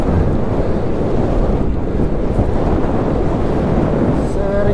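Strong north wind buffeting a microphone on a road bike ride, a constant loud rushing roar with no break and no talk.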